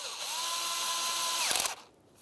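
A power tool snugs the front intake bolt on a 2004-2015 Nissan Titan during knock sensor work. It gives a loud, close whirring whine that holds steady, then stops abruptly with a brief rattle, with no one speaking.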